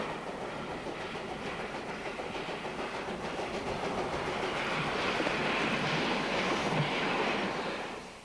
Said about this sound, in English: trains now run all the way to the historic and picturesque Gold Hill Depot